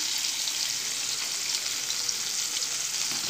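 Sliced onion and split green chilli frying in a pan, a steady, close hiss of sizzling oil with no pauses.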